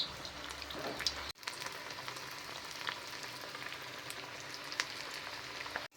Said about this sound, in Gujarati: હવે તેને તળી દઈશું.